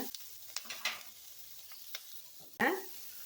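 Kadai paneer masala cooking in a kadai on high flame: quiet frying with a few sharp spatula clinks and stirring scrapes, then a sudden loud burst of sizzling near the end.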